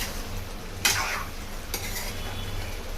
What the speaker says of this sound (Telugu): కర్రీని కలపడం కూడా ఒక టెక్నికే అండి. ఇలా కలుపుకున్న తర్వాత ఇలా కలుపుకోవాలి